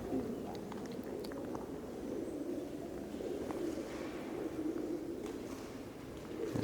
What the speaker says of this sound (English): A lot of pigeons by the sound of it.